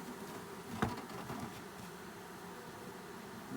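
Honey bees from a package settle into a newly installed hive on foundation, a steady close buzzing drone that stays even throughout, with one brief knock.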